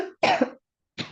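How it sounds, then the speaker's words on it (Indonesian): Three quick, harsh coughs close to the microphone, two bunched together and a third after a short pause. "maaf ya saya agak batuk-batuk nih"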